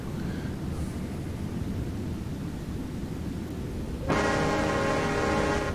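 In the naval battle game World of Warships, a warship's horn blares suddenly partway through, a loud sustained tonal blast over the steady engine and sea rumble that fills the rest of the scene.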